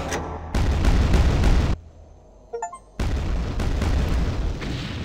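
The big gun in the Quake 2 video game fires and explodes in two long heavy booming roars, separated by a quieter gap with faint metallic clicks.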